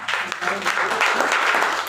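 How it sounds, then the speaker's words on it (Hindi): Audience applause at a seminar on health and animal-care products, a steady wash of clapping lasting the whole stretch with voices mixed in underneath. "एक बार जोरदार तालियां"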